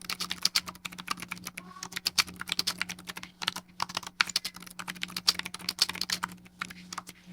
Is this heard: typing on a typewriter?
yes